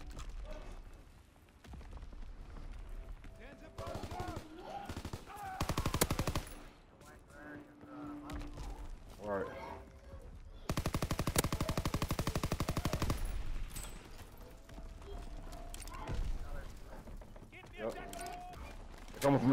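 Bursts of machine gun fire from pillboxes in the World War II shooter game Call of Duty: WWII ring out in repeated rattling volleys of varying loudness amid explosions, with a player talking over the action at times.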